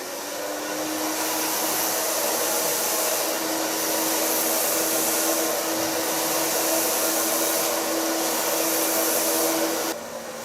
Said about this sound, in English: Blow drying with a medium brush.